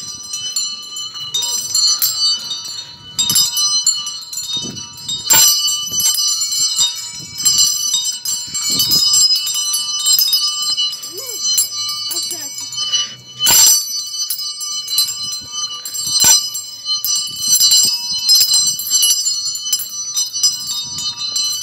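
Small bells from a personal bell tower at home ring in repeated bright strikes, with a few louder clangs standing out, while voices talk intermittently around them.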